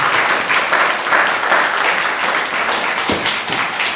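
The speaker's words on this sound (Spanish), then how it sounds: "Démosle palmas fuertes al Señor, hermano." Church congregation clapping loudly together during a Spanish-language sermon, a dense steady wash of many hands that fills the whole stretch without pause.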